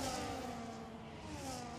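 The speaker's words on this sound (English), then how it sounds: "showing how these cars just sweep through the corners" F1 racing cars sweep through corners in a Formula 1 racing video game, a high, sustained engine whine that shifts slightly in pitch as the cars swing through the bends.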